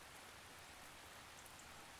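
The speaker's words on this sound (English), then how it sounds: "we are experiencing a multi-day rainstorm here in Colorado" Steady rain from a multi-day Colorado rainstorm, a dense, even hiss of drops falling on surfaces, faint and continuous with no voices or other sounds.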